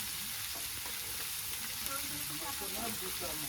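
Snail masala with ginger paste sizzles and fries in a pan, a constant crackling hiss with faint stirring scrapes, heard close and alone.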